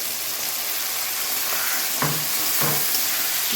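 Fried crabs dropped into hot spice masala in a pan, sizzling and hissing steadily, with a couple of louder bursts as pieces hit the oil and get stirred.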